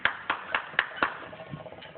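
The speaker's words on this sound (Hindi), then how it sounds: "तालियां।" A handful of people clap in a small village setting, making a short run of separate, evenly spaced claps that fade out after about a second.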